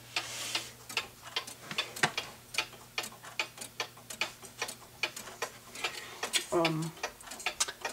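A Rhythm music box clock ticks in a steady, even beat of quick, close, fairly quiet clicks, with a faint low hum beneath and a brief voice-like murmur near the end.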